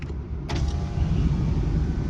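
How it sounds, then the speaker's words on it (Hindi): Electric power windows on a car whirring down inside the cabin, a motor hum starting near half a second and running steadily, close and fairly loud with no talking. "अपने चारों विंडो है ना वो आपको डाउन कर देनी है।"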